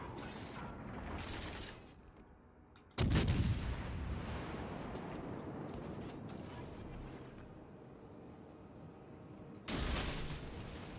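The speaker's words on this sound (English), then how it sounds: "What are they shooting at?" Bursts of gunfire in a video game, one loud volley starting sharply and running for several seconds, with another sharp burst near the end, mixed with mechanical clatter and no talking.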